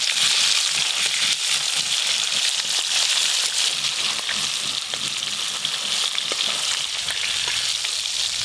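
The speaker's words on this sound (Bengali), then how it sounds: "একদম হালকা করে ভাজছি, এখনো ইলিশের কাঁচা কাঁচা ভাবটা আছে।" Hilsa fish pieces fry lightly in plenty of hot oil, giving a loud, dense, unbroken sizzle and crackle heard close up for the whole stretch.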